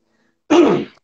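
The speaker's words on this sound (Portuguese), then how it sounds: "Toda hora tossindo, tô me recuperando uma gripe" A single short, loud, close cough from a person recovering from the flu, a rough throat-clearing burst that fades quickly into silence.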